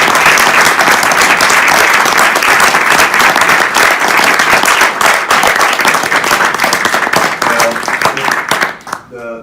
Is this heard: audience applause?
yes